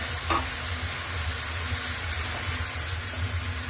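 Ground coriander and cumin sizzle in a pan of chicken curry, a steady dense crackle and hiss that holds without a break, close and fairly loud, with a faint low hum beneath.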